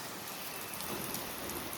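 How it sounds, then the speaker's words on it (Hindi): Heavy rain pouring down on a street in Ganganagar, a dense continuous hiss of drops striking surfaces, close and steady throughout with no talking. "ये देखो अब उससे भी बढ़िया बारिश आ रही है।"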